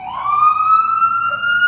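An ambulance siren sounds outside in the heart of Fort Lauderdale, Florida, a loud steady wailing tone that holds and rises slightly in pitch, with no talk over it.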